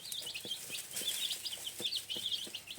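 Young chicks settled in a roomier new enclosure, peeping softly and clucking, with light scratching and pecking taps, faint and steady throughout.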